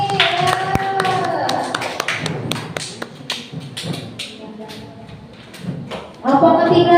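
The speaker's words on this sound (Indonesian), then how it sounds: "Ayo kita berikan aplaus lagi." Students clap in a classroom in a brief burst of applause, with a teacher's voice and some chatter over and around the clapping, and scattered taps and thuds.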